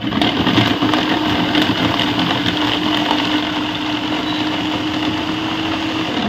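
An electric vegetable chopper with its lid closed whirs steadily as it cuts tomatoes, a loud, continuous motor hum close by that eases slightly toward the end, with no speech.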